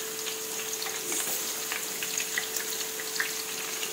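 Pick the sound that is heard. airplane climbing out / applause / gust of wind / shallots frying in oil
shallots frying in oil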